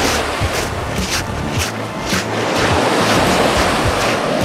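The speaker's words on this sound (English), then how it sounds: "Just walking along the edge of the beach here" Surf breaks steadily along the edge of a beach, a loud continuous wash of waves with heavy wind buffeting the microphone throughout.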